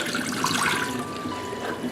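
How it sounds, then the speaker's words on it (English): Water pours and splashes steadily for a couple of seconds as cloudy rinse water drains from a bowl of sushi rice, a close, continuous sloshing stream. "drain out like 2/3 of the water,"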